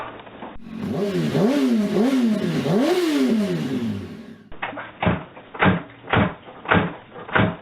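A Yamaha RZ350 motorcycle with a failed CDI is cranked but won't fire, a rising and falling whine of repeated start attempts followed by a series of rhythmic thumping kicks or cranks, nearby and moderately loud.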